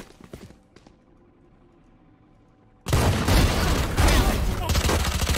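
Dense, loud burst of Valorant gunfire erupts partway through after a quieter stretch, sustained overlapping shots continuing to the end.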